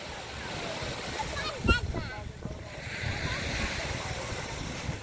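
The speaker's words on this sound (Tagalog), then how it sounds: "Ito po ang dagat." Sea waves wash onto Pundaquit beach in a continuous, moderate surf rush, with a brief sharp splash near the middle.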